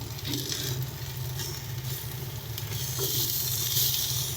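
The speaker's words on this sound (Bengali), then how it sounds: "সমস্ত কিছু দিয়ে এটাকে ভালো করে মিশিয়ে নিচ্ছি।" Mixed winter vegetables with turmeric and salt sizzle in a pan while being stirred, a continuous close frying hiss with faint scraping and shifting underneath.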